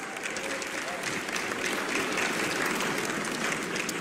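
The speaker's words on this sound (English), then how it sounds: "Let's give them a huge round of applause." A pageant audience at the Miss World 2023 show applauds two former Miss World winners, a dense, even roar of many hands held at a steady level throughout, somewhat distant in the hall.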